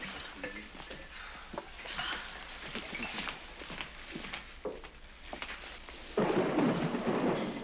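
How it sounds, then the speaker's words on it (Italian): Artificial thunder produced by a device in a 1976 film scene, a continuous rumbling roar with crackling bursts that swells louder near the end, heard without speech. "Questi tuoni mi fanno venire il mal di testa, ma non si può fermare questo ridicolo apparecchio"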